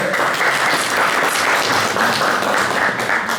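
A crowd at a Haitian community gathering in France applauds steadily, a dense, even wash of clapping that holds at full strength from start to finish.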